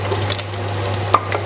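Pork mince and onion fry in a pan with a soft, steady sizzle and a few stirring scrapes, plus a constant low hum and one brief sharp click near the end.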